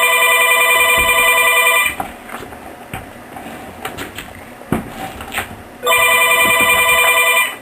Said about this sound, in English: And of course the phone would ring while I'm doing this.